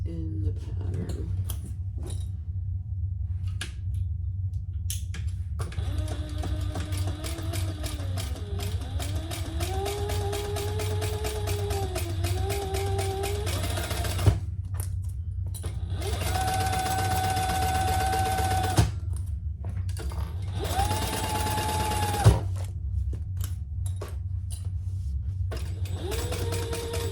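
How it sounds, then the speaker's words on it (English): A sewing machine stitches a seam allowance in three separate runs, its motor whirring with a rising and falling whine over a constant low hum, with quiet pauses between bursts. "Let's sew the seam allowance in the pattern."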